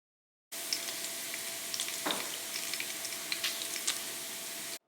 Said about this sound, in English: while that bacon is cooking